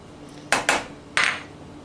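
A spoon stirs brown rice in a cooking pot, giving three sharp metallic clinks against the pot, two close together and one after a short pause, in a quiet kitchen.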